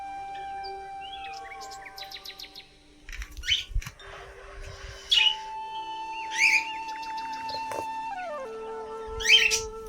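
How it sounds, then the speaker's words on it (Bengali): A pet bird lets out several harsh, bursting screeches a couple of seconds apart, mixed with thin whistles and chirps, nearby in a quiet room with occasional soft thumps. "চেঁচাচ্ছে আমার পাখিটা।"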